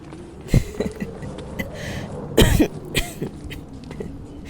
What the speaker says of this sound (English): laughter cracked into a cough